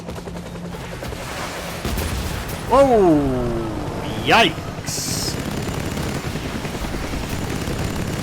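Gunfire rattles steadily through a Death Stranding battle scene, with a harsher burst near the middle. A person gives short startled shouts over the shooting.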